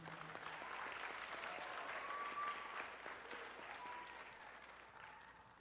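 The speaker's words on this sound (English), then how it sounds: "Let's get another round of applause for the Mangalam." An audience applauds at the wrap of the Origins Championship 2023 event, a steady, distant-sounding clapping that holds evenly for several seconds and slowly tapers, with no voices over it.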